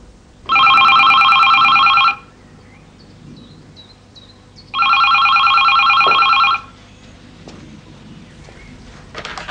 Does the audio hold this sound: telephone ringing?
yes